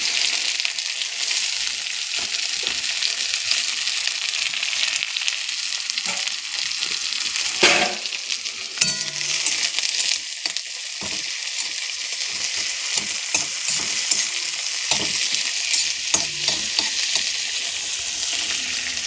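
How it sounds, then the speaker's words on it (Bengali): Onion, garlic and dried fish fry in hot oil with a loud, continuous crackling sizzle, broken by frequent spatula scrapes and stirring knocks, close up with no voices. "তেল গরম হয়ে গেছে, পেঁয়াজ আর রসুন দিয়ে দিচ্ছি"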